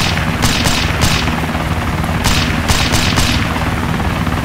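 An aircraft engine in the video game DayZ drones loud and close, a dense continuous roar punctuated by several sharp bursts, with no speech over it.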